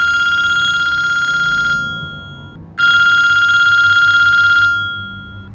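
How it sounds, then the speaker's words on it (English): Cell phone ringing with a bright electronic tone, two long rings separated by a short pause, loud and close with no one speaking. "All of a sudden, Sato's cell phone started ringing."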